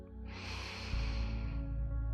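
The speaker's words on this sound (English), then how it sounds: "let's take 3 nourishing breaths together here, keeping your attention focused on your heart space, breathing in" A single deep breath is drawn in slowly through the nose during a guided heart-focused breathing meditation, close and soft, rising into a fuller airy inhale.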